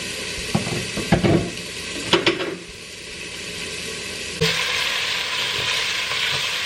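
Onion and garlic sauté in a hot pan, giving a steady sizzle with clatters of stirring early on, then a louder, even frying hiss as more goes in; no one speaks.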